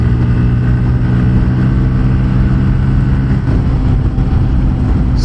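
A Bajaj Pulsar N160 motorcycle cruising at speed in fifth gear, around 7000 rpm, its engine droning steadily and loudly with constant wind rush and no voices.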